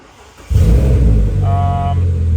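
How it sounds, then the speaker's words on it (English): An Audi RS6 V10 engine with a newly installed fuel pump cranks and catches abruptly, then settles into a loud, steady idle close by. "If you're gonna start the car up"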